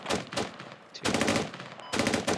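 Automatic gunfire in the Squad military shooter game, three rapid bursts of loud rattling shots separated by brief gaps, fairly close and without talk.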